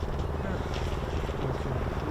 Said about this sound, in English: It is a heavy aircraft, the C-17.